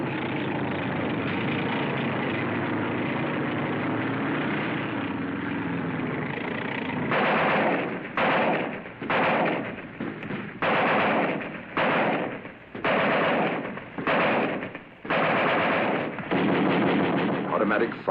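Heavy automatic weapons fire in combat, loud bursts rattling in quick repeated volleys after a stretch of steady rumbling engine-like noise, close and dense.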